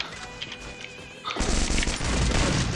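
Gunfire in the Free Fire video game starts as a sudden loud burst partway through, followed by a sustained harsh crackle of shots, after a quieter stretch with a thin tone.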